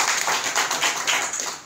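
Audience hands clap together in a steady, dense burst of applause at a business opportunity presentation in an office, fairly loud and close, with no talk over it.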